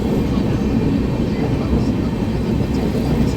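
Patna Kota Express train running at speed, heard from inside a crowded general coach as a loud, steady rumble and rattle of wheels on track throughout.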